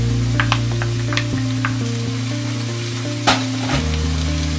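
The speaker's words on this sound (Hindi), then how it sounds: "अब हम इसमें डालेंगे कटा हुआ टमाटर" Chopped tomato going into a pan of softened frying onions, a steady loud sizzle with a few sharp spits and pops and a clatter partway through, no voices.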